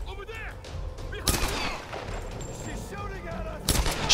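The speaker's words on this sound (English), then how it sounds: "She's shooting at us with her gun." Gunfire in Tomb Raider (2013), a couple of sharp, loud shot bursts separated by a few seconds, with game effects and faint voices in the background.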